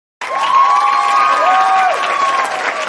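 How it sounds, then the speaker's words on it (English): An audience applauds and cheers in a brief, steady burst of clapping after a panel discussion on partnership. The sound starts abruptly, holds at full loudness for a few seconds, then cuts off. "Well-deserved applause."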